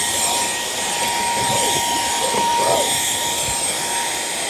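A Fanttik Slim V7 handheld vacuum cleaner runs on its high setting, giving a continuous close whine with a steady airy roar and a thin high tone, with no talking.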